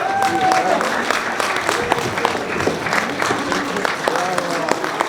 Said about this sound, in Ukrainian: Оплески щасливій парі.